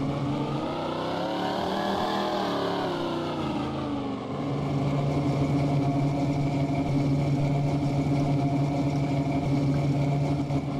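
The engine of a 1979 Chevy Silverado in the Spintires off-road video game, fitted with a winch, snorkel and weighted bed, drones loudly and steadily, its tone shifting a few seconds in before settling into a constant rumble.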